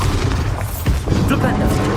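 A Bombarda spell blast in Hogwarts Legacy, a loud booming explosion with rumbling low-end impacts over two seconds, with voices or spell sounds mixed into the din.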